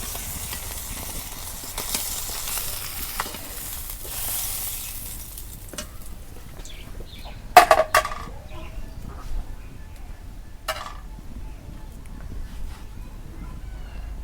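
Fish frying in a pan of oil in a Bangladeshi kitchen, a soft steady sizzle that fades and thins midway, broken by a couple of sharp clatters of a utensil against the pan.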